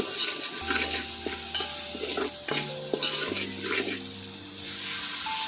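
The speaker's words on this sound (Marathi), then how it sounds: "हे सब्जी मसाला आण होता घरी तोच आपण टाकतोय फ्राय करून घ्यायचं व्यवस्थित एकदम" Raw jackfruit pieces fry with sabzi masala in a pan while being stirred, giving a close, steady sizzle with scraping stirring sounds over soft background music.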